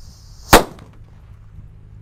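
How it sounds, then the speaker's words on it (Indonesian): A single sharp paper-wrapped firecracker bang, loud and close, that fades quickly into quiet background noise. "Ini mercon kera raja, kita nyalakan yang kedua kalinya, yang buntelan ini guys."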